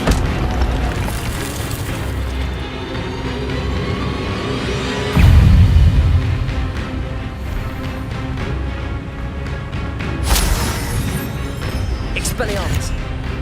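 Fiery spell blasts from Hogwarts Legacy's Incendio, booming bursts within ongoing combat noise, with one heavy low blast near the middle and a sharp flare later, while a person speaks over the action.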